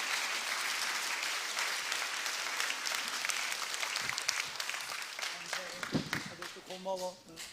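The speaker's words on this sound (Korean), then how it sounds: "오늘은 먼저 우리 한번 박수 한번 냈으면 좋겠어요" A church congregation applauds during a Sunday worship service, steady dense clapping filling the room for several seconds before thinning out, with voices speaking over the tail end.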